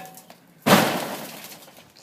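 A single sharp crash of glass smashing during demolition, a bright burst that decays into a short scatter of tinkling shards, preceded by quiet background.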